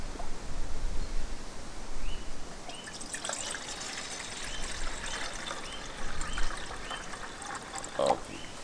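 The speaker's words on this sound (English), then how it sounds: "I'm gonna add the water." Water trickles and pours into an aluminium Fire Maple camping steamer pot, a faint, steady liquid stream outdoors lasting several seconds with a few small splashes.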